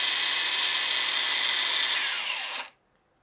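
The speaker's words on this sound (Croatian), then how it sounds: "Što se tiče nivoa buke, šta god da izmerimo, zaštita za sluh u radu sa brusilicom je neophodna." A Bosch GWS 18V-11 S cordless 1100 W angle grinder runs free at high speed with a steady whine, then is switched off and cuts out abruptly, leaving near silence.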